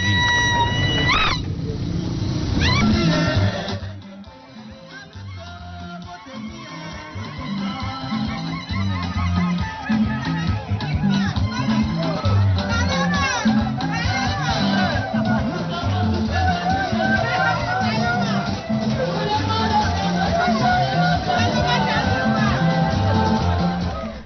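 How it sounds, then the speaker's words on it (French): A jubilant crowd greets a presidential candidate at an election campaign rally in Chad, a dense, continuous roar of cheering voices with horns or honking, drums and music, loud and sustained throughout after a brief dip. "C'est une foule en liesse qui vient à sa rencontre à la tribune de la dite ville."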